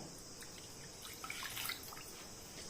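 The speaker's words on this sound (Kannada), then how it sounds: "1 ಕಪ್ಪಿನಷ್ಟು ನೀರನ್ನು ಹಾಕ್ತಾ ಇದ್ದೇನೆ" Water poured from a cup into a kadai holding grated coconut, a soft, faint trickle and a few drips that swell briefly in the middle over a steady background hiss.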